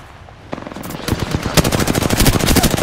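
Gunshots in the video game Apex Legends: a fast automatic burst of shots building in density and loudness, close and sharp, continuing steadily to the end.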